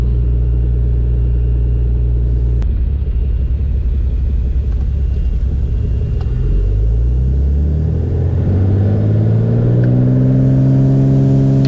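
Light aircraft engine on the takeoff roll at night, a loud, steady, close droning rumble that swells and climbs in pitch as power builds toward liftoff.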